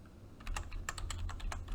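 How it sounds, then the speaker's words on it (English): Quick bursts of typing on a computer keyboard while entering a single line of text, irregular clicks close and fairly soft, with no talking. "Then you go ahead and start typing."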